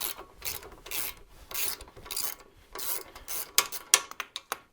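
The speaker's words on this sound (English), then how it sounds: "I have a ratcheting wrench." A ratcheting wrench works a fender bolt on a Harley Sportster or Dyna front end, giving bursts of raspy clicking that end in a few sharp, separate metallic ticks up close.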